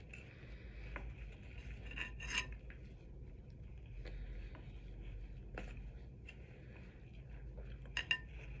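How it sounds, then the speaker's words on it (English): Metal spoons scrape and clink against a bowl while homemade slime is cleared off them. The scrapes come in short, separate strokes, close and fairly quiet, with one sharper clink near the end. "just kind of scrape off my spoons here"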